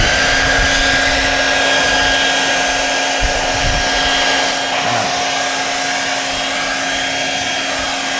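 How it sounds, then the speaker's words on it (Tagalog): An air blower runs continuously with a loud, steady whine and a strong hum during car accessory installation on a Hilux. The blast holds unbroken for several seconds, with a slight dip partway through. "blower ulit natin"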